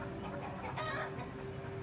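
Hens and a rooster cluck in a farmyard while a ferret attacks chickens, with a brief louder burst of clucking in the middle of the steady background.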